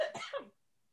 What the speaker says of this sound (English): I'm sorry, excuse me, I have to cough again.